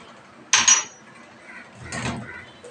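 Onions, chilies, turmeric, salt, coriander, garlic and ginger are stirred in a metal pan for potato egg curry, giving two brief, close metallic scrapes and clinks against a quiet background.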